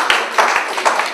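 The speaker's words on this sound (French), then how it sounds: "Applaudis." Applause from a group of young trainees at a building-trades training session, a handful of quick broadband claps close by, fairly loud and unaccompanied by speech.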